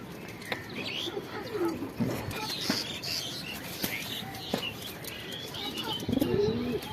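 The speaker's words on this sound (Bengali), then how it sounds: "দেখেন দুই পেয়ার কবুতর বাহিরে ছাড়ছি" Pigeons let loose outdoors on a rooftop flutter and flap their wings in several short bursts, with soft coos and chirps scattered between and faint background noise.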